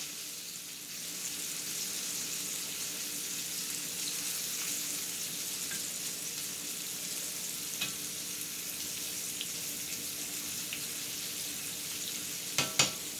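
Beef chunks browning in a stew pot sizzle with a steady, dense hiss throughout, with a few sharp scrapes or clinks near the end.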